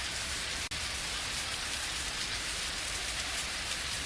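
Rain falls steadily as a dense, even hiss of drops, continuous and uniform with one brief dropout near the start.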